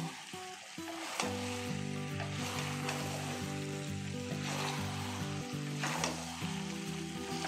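Chicken chili pieces sizzle steadily in sauce in a full kadhai over a high gas flame, hotel style, with a constant loud hiss running beneath background music.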